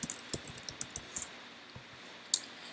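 Clicky computer keyboard keys tapped in a quick irregular burst while entering a Pinterest search for ground turkey, then a pause and a single last key press, close and fairly soft.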